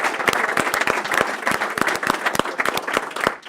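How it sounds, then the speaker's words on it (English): A school board meeting audience in Ohio applauds, with dense, steady clapping from many hands at close range that carries on without pause, the claps crisp and overlapping. "So let's give them a round of applause."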